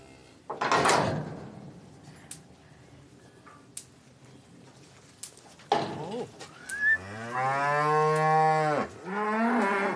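Cattle moo loudly during an autumn drive down from high summer pastures in the Rhön, with one long, close, drawn-out low at the end following earlier calls and some rustling.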